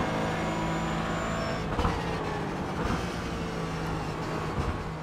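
BMW GT4 race cars in the iRacing sim, engines droning steadily at close range with a continuous roar of several cars running together, occasional swells in intensity, no talk.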